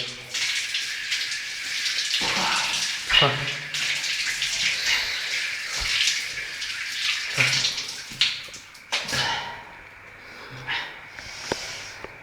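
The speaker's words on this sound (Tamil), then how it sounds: "பாத்ரூமில் தண்ணி வருதா?" Water runs from a bathroom tap in a steady broadband hiss that holds throughout, with brief knocks and shifts near the end; no speech is heard.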